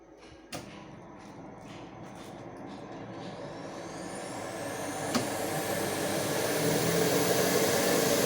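A grain dryer machine for maize, soy and beans starts with a thump and builds into a steady rising mechanical roar of fan and motor, running loud and continuous with no talk.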